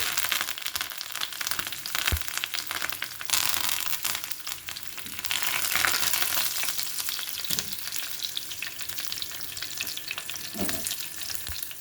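Two dry red chillies sizzle in a hot mustard seed and cumin tempering, a bright continuous frying hiss that rises and swells, with occasional stirring scrapes and soft pops, no voices.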